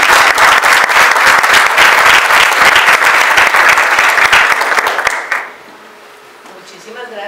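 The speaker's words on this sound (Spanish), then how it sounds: "creo que con un aplauso recibirá a la persona" Dense, loud applause from an audience welcoming a speaker at a bird-count talk in Bogotá, sustained for about five seconds before cutting off abruptly into quiet room sound.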